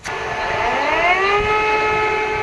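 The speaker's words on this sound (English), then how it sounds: "The early sirens wailed in Ukraine's capital once more." A long, steady air raid siren wail in Kyiv, Ukraine, rising in pitch, sustained and fairly loud, with no voices over it.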